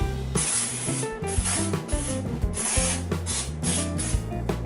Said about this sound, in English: I just sprayed a bunch of cooking spray on you.